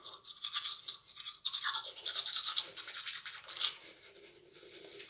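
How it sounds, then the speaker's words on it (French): Steady, close scrubbing of a toothbrush working over teeth and gums, with rapid back-and-forth strokes and no talking. "bien se brosser les gencives"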